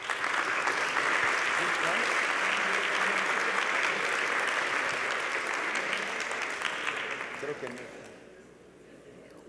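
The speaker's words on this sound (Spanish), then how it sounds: "Para él también un aplauso." Audience applause at a student event with rector's message and award ceremony, sustained clapping from a crowd that holds strong, then gradually thins and fades out near the end, with a voice speaking faintly over it.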